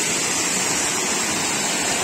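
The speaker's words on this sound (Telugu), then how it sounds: "సున్నపురాయి గడ్డ వాటర్ ఫాల్ చూడండి, వాటర్ ఎట్లా ఫ్లో అవుతుంది చూడచ్చు." Water at Sunnapugedda waterfall in the Srikakulam agency hills flows down a valley in an even, continuous hiss and rush, moderately loud and uninterrupted, with no voices.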